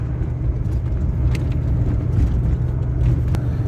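A car rolls along a village road into rural autumn Dudarkiv, its engine and tyres making a steady, close, low rumble that continues unbroken with no voices.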